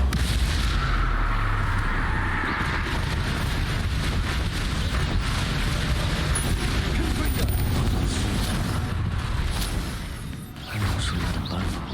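Confringo blasting-spell explosions in the video game Hogwarts Legacy come as a loud, dense, continuous barrage of booms and rumbling battle noise, with voices mixed in throughout.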